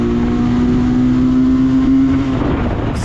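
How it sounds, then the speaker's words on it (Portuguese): A BMW S 1000 RR-style sport motorcycle, the SBM 400s with its stock exhaust, holds a loud, sustained engine drone inside a tunnel, the note echoing steadily and shifting slightly in pitch near the end. "Esse escape mesmo original é brabo demais, não tem como."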